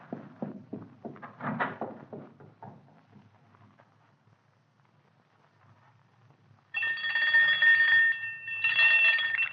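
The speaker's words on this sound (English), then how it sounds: "Ring the doorbell. I'll hear it. Ring it loud." A doorbell rings twice in bright, sustained bursts near the end, after a stretch of muffled knocking or footsteps and quiet.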